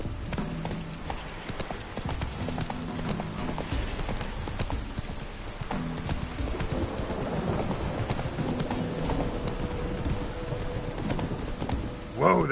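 A horse gallops in The Witcher 3 video game, its hooves making a continuous rapid clip-clop at moderate loudness over a steady ambient bed, with a brief louder burst at the very end.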